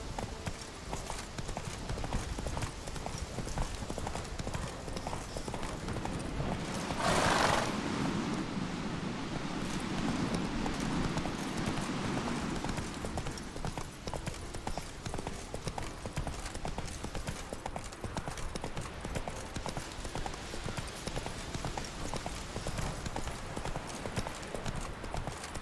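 Horse hooves clip-clopping at a steady, rhythmic trot in the Witcher 3 video game, set on Skellige, with wind and light ambient noise beneath and a brief gust swelling partway through.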